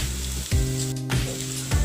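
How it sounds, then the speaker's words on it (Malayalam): Chopped large onion hitting hot oil in a pan, a steady close sizzle that flares briefly at each addition and settles back to a constant frying hiss. "ഇനി ഇതിലേക്ക് ഒരു വലിയ സവാള ചെറുതായി അരിഞ്ഞത് ഇട്ട് കൊടുക്കാം"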